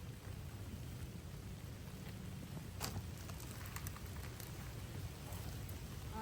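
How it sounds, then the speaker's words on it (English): Steady rain falls outdoors over a garden with raised beds, a soft, continuous hiss with low rumbling beneath and a brief sharper splash near the middle. "Full-blown raining."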